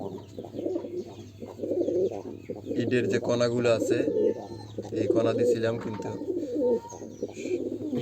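Pigeons coo steadily at a pigeon farm, a continuous low warbling chorus close by, with a person talking over it throughout.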